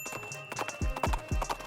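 Horse hooves clip-clop at a steady walking rhythm as a horse is ridden, several close, distinct thuds with a brief whinny-like sound mixed in.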